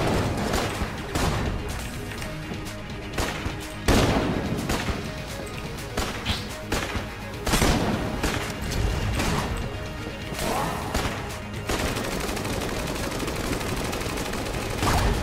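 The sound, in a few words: gun firing at Bullet King boss in video game Enter the Gungeon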